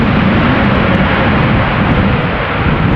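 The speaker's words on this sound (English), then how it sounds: "Now next up, an airplane that might get loud." Airbus A340 airliner of Surinam Airways at Amsterdam Schiphol Airport, a loud, steady broadband jet engine roar that fills the whole stretch without letting up.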